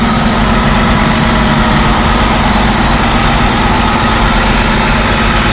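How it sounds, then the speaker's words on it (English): A bus engine idling loudly outside a hotel in Jacksonville, a steady heavy low rumble with constant vibration and no change throughout, close and alone without talk. "let me get away from this bus because it is super loud"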